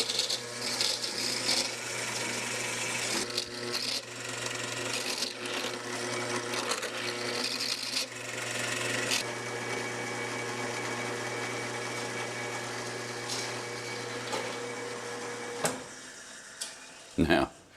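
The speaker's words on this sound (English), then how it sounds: "once I get done with the drilling here" A drill bores a long run of holes into mandolin wood in a workshop, a steady mechanical whir with brief pauses and shifts in pitch, ending in a few sharp knocks.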